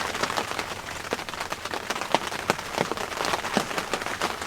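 Rain patters outside a hunting ground blind, with a dense, continuous wash of drops and scattered louder taps striking close surfaces; no one speaks.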